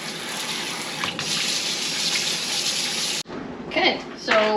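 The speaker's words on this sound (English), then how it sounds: "I'm just gonna run some cool water to stop the cooking process." Cool tap water running over freshly cooked food in a home kitchen sink before Thanksgiving, a steady loud gushing stream that cuts off abruptly, followed by a few clinks and splashes.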